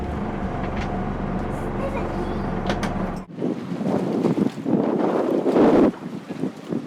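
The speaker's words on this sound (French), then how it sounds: "le vent est fort" Steady wind rushes over the microphone on a sailboat with a low rumble, then gusts harder and rougher, buffeting loudly in bursts.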